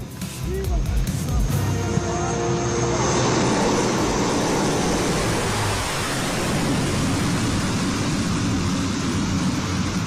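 Indian Air Force military aircraft such as a C-130J Super Hercules on a highway airstrip near Jalore, a loud continuous engine roar and rushing noise, with a voice talking over it.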